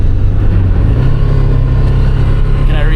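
A loud car exhaust drones and rises steadily, close by, its deep tone climbing partway through as the engine revs.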